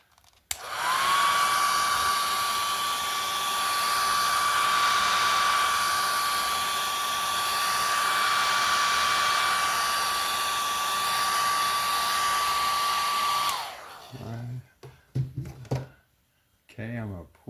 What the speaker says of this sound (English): I'm going to hit it with the dryer one more time